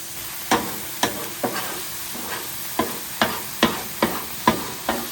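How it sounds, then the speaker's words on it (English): Marinated carne asada on a hot griddle, heard as a quiet sizzle broken by about ten sharp scraping or tapping strikes at a steady spacing, close up, with no voices. "When you add that cold meat to the griddle, you're gonna zap a lot of heat away."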